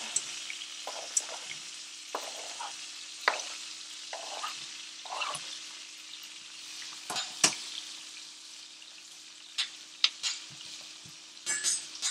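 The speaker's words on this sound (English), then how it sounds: "I'm going to go ahead and add my pre-cut onions." Pre-cut sweet onions and garlic sizzle and fry in hot oil in a pan, a steady crackling hiss broken by occasional scrapes and clinks of a utensil stirring.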